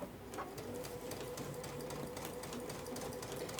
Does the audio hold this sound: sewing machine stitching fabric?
yes